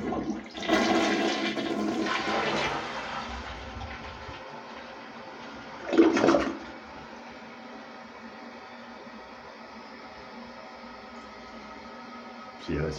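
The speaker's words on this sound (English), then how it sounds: "How do we flush it?" A toilet with blue food coloring in the bowl flushes with a loud rushing gush, then trails into a quieter refill hiss with a second surge partway through, the water sounding close and echoing in a small room.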